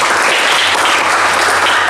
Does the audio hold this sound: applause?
yes